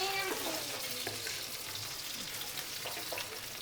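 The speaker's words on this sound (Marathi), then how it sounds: "तेल पण मस्त तापून गेलं आहे. आता त्याच्यात मी टाकते कांदे." Onions go into hot oil on a flat tawa for egg kheema, giving a steady, moderate sizzle that runs throughout with no talking.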